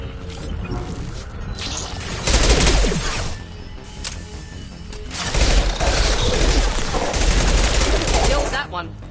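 Bursts of sustained gunfire in Mass Effect 2 combat, loud rapid shots with mechanical clatter in two heavy waves separated by a lull, with occasional voice underneath.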